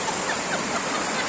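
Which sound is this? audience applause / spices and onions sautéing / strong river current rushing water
strong river current rushing water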